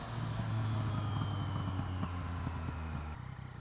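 A small motorcycle engine drones close by for about three seconds, its pitch wavering as it goes past, then drops to a quieter idle-like rumble.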